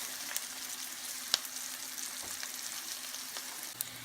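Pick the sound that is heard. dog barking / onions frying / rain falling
onions frying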